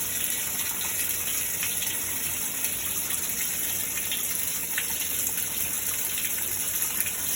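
Warm water gushes steadily into a washing machine as it fills, a constant, even hiss and splash that stays close and unchanging throughout with no voices.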